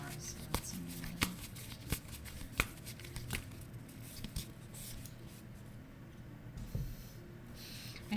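A new deck of reading cards is shuffled during a live reading, giving soft papery riffles and light taps that repeat at an uneven pace under steady quiet background noise.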